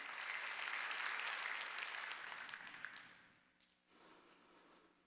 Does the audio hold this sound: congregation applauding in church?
yes